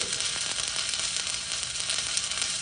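Stick welding arc burning continuously, a dense, loud, close crackling sizzle like frying that stays even for the whole stretch with no talking.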